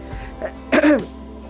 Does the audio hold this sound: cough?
yes